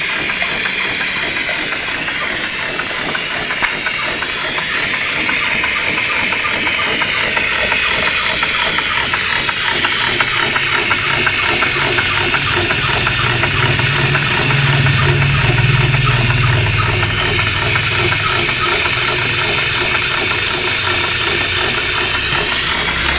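Steam engine generator running, a loud continuous mechanical drone with hissing, watery texture and a steady low hum that swells briefly in the middle, heard alone without talk.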